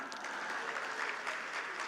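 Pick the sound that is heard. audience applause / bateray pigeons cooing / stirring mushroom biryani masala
audience applause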